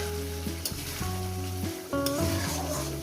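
Potato poppy-seed curry (aloo posto) sautés in a pan with a continuous, even sizzling hiss, while tonal background music plays underneath.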